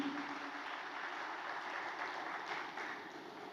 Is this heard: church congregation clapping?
yes